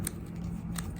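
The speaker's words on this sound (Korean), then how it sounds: "가위로 다듬어 줄 겁니다. 그냥 이렇게 툭툭 잘라 주시면 돼요." Two crisp, close scissor snips trim loose straw while straw shoes are being made, one at the very start and one near the end of the brief moment.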